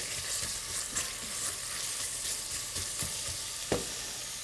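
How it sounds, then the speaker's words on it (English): Onions sweat in a heavy-bottomed pan on an induction burner, giving a steady close hiss and sizzle with occasional soft pops and stirring taps. "I'm going to let those onions sweat down just a little bit"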